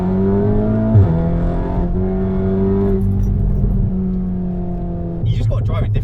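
A Stage 3 tuned Golf R Mk7 with a large turbo holds a loud, steady engine drone close by, rising slightly in pitch through a gear before a brief shift, with a voice over it.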